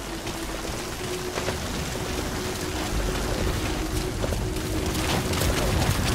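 Steady video game rain in Metal Gear Solid 5: The Phantom Pain hisses continuously at close range, a dense even patter with a faint tonal hum beneath, growing slightly louder partway through.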